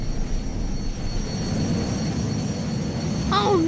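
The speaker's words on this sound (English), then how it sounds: "Oh no! Look at that big jet!" A big cartoon jet airplane roars past with a loud, steady engine rush that holds throughout, ending in a brief rising whoosh.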